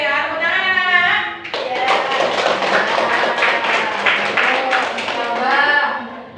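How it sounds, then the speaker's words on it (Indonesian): Children clapping together in a mathematics classroom, a burst of quick, loose claps from a group of pupils, framed by a teacher's voice before and after. "Tepuk tangan anak-anak."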